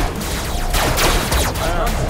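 Rapid gunfire bursts from the RoboCraft video game, dense crackling shots across the whole moment, loud and close, with a voice shouting over the battle noise.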